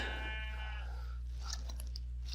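A sheep in Minecraft gives a single drawn-out bleat, clear and nearby, followed by soft crunching game sounds over a constant low hum.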